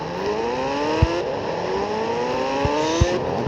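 A motorbike engine in the Indian Bike Driving 3D video game revs up in rising tones, shifting gears repeatedly, with a few sharp thumps along the way.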